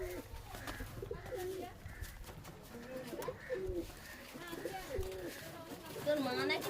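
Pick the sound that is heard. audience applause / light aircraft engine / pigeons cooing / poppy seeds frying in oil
pigeons cooing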